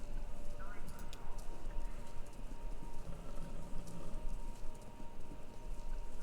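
Horses galloping in a race within the video game Kentucky Route Zero, a steady patter of clip-clop hoofbeats over a continuous rumbling crowd-like background, moderately loud throughout.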